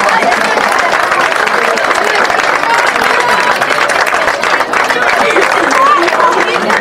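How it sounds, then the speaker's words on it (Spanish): A crowd at a year-end party breaks into steady, loud applause that carries on for several seconds, a dense wash of clapping with some chatter mixed in. "Un aplauso."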